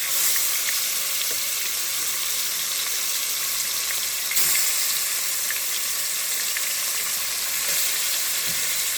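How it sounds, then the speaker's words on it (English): Oxtails browning in a little oil in a pot, giving a continuous, fairly loud bright sizzle and crackle with one brief surge midway, close and steady with no voices. "I want to get them browned on all sides to lock in flavor"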